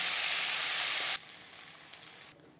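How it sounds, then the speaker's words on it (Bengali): Bhetki fish bones fry in hot oil in a wok, a bright loud sizzle that suddenly drops to a quieter crackle and fades further near the end. "পরের কাটা একইভাবে ভেজে নেব।"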